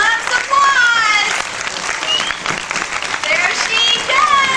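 Audience at a Spirit of the Tiger show at Six Flags Great Adventure applauds to encourage a performer before her triple jump, a steady wash of clapping and cheering throughout with a voice calling out over it.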